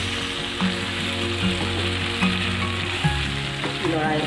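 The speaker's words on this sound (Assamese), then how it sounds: "এতিয়া মাংসখিনি লৰাই দিওঁ আৰু ফ্ৰাই কৰা হ'ল" Chicken pieces fry in a pan with a steady, close sizzle. A spoon stirs them in periodic soft scrapes and knocks, with a low hum running underneath.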